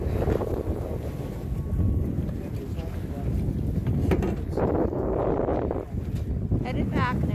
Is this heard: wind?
yes